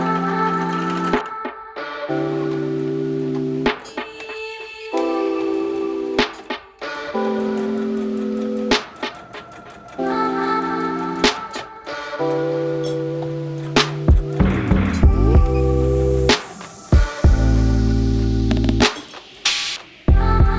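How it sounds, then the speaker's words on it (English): A sewing machine stitches in loud, rapid bursts, its motor whirring on and off in repeated runs with brief pauses and clicks between. "head to the sewing machine and finally start sewing"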